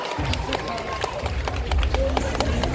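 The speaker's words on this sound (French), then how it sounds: "On les applaudit bien fort." An audience at a cosplay contest in Nantes applauds costumed performers, a dense wash of clapping with crowd murmur and voices over it throughout.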